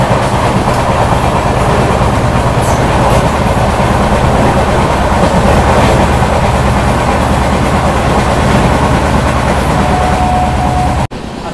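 A Garib Rath express with LHB coaches running at speed, heard from onboard as a loud, constant roar with rhythmic clickety-clack of wheels over rail joints, cutting off abruptly at the end.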